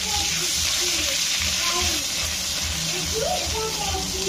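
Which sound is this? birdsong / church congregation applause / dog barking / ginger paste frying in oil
ginger paste frying in oil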